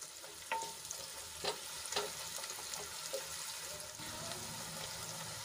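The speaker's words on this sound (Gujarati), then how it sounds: "તો ડુંગળીને આપણે ગુલાબી રંગની થાય ત્યાં સુધી ઢાંકીને ચડવા દઈશું" Onions cook in a covered pan with a steady, soft sizzle and a few brief clinks of utensils, continuous and close, with no talking.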